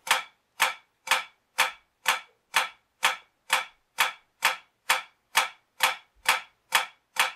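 Drumsticks strike a hard surface in an even, continuous series of about fourteen crisp flam strokes, each a quick grace hit into a main hit.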